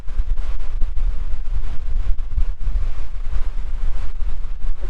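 Strong wind buffeting a microphone outdoors on a November afternoon of catfish fishing, a loud constant low rumbling roar with gusty fluctuations and no voice.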